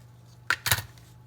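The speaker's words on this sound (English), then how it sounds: "now I'm going to cut it out using these scissors." Scissors snip through a paper stencil in two quick, crisp cuts close to the mic, the second slightly longer, against a quiet room hum.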